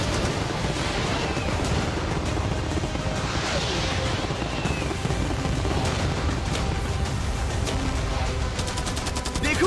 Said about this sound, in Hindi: मैं चाहता हूँ कि तुम कैनन्स, फायरवर्क्स, एरोस, कैटापल्ट्स सब कुछ एक साथ फायर करो।